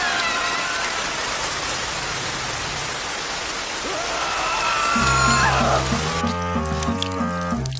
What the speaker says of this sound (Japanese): 冷静になると布一枚でどうこうできる雨量じゃなかったよね